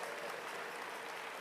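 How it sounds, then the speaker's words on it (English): A church congregation applauds two bishops' wives at a worship service, giving a soft, steady, distant patter of clapping that stays faint throughout. "Now let's give them both an applause of appreciation."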